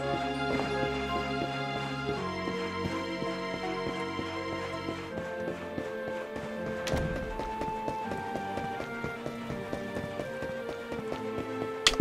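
Horse hooves clip-clop in Dragon Quest XI, a steady, moderately close patter of hoofbeats set under continuous game music with tonal melody throughout.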